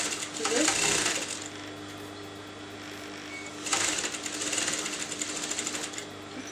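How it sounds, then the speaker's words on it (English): A sewing machine stitching fabric in two bursts, each a rapid, rattling mechanical whir close by, separated by a quieter pause with low background hum. "you're going to sew all the way up to this."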